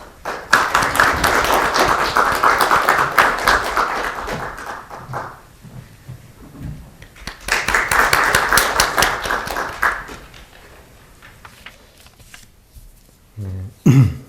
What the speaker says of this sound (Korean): 저희 큰 박수와 함께 맞아주시기 바랍니다.